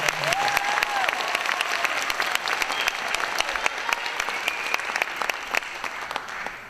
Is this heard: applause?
yes